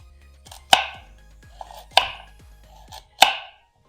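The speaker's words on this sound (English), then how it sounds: "So carrots, sliced thinly." A knife slices carrots thinly on a cutting board for a creamy sausage and Parmesan soup: three sharp, evenly spaced chops ring out close and clear over quiet background, with faint lighter taps between them and no talking.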